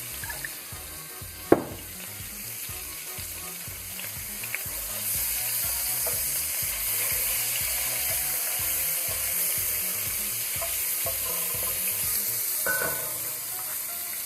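Butter sizzles steadily in a hot pan while a shrimp and chorizo risotto is being made, a loud continuous frying hiss with faint rhythmic clicks beneath and a brief knock early on.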